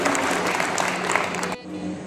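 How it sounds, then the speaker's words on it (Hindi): Dense, lively applause from a meeting of tent traders, loud and continuous, with the clapping cutting off abruptly near the end. "जोरदार तालियां दिनेश जी के लिए"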